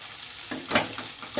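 Mixed vegetables including green banana frying in a pan, a soft continuous sizzle with a few brief stirring scrapes, close but quiet and short.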